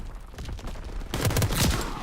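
Rapid gunfire in Call of Duty WWII, a dense automatic burst that swells partway through into louder, close rapid shots with no talking.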